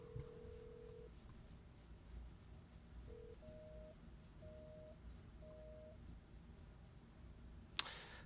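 Phone being dialed in the horror game No I'm Not a Human, a short series of quiet electronic keypad tones at an uneven pace, followed by a sharp click near the end, faint and with no talk.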